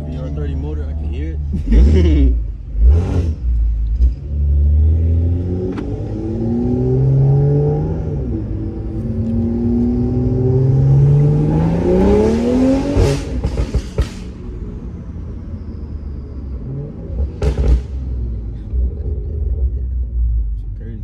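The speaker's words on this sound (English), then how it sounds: "The VR30 motor, I can hear" An Infiniti Q50 with a VR30 engine revs hard and climbs in pitch as it launches, loud and close, with a few sharp pops and brief voices between the pulls.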